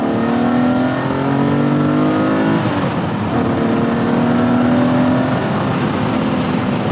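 A TVR T350C sports car engine revs hard while driving, loud and close, with rising and falling pitch sweeps as it climbs through gears, one short dip at a shift, and no talk over it.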